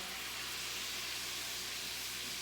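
Cream poured into a hot pan with butter while making creamed corn, a steady soft sizzling hiss that continues evenly throughout, with no voices.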